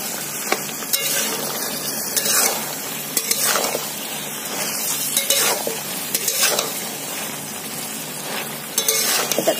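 Okra curry with fish roe, potato, onion and tomato sizzles in a pan while a utensil stirs and scrapes repeatedly, a close, continuous frying hiss with no one speaking.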